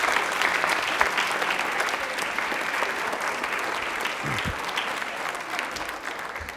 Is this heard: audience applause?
yes